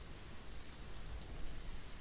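Rain falling outside a tent at a campsite, a steady soft patter with a faint distant rumble, quiet and continuous with no voices.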